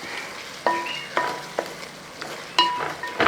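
A spoon stirs prawns into sizzling, bubbling prawn biryani masala gravy in a pan, with several sharp scrapes and clinks over a soft, constant sizzle, close by and with no talk.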